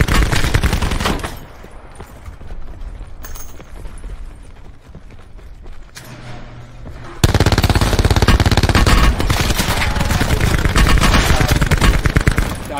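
Spitfire automatic weapon fire in a shooter game, sustained rapid bursts that break off briefly mid-clip, then return louder and denser amid other combat noise.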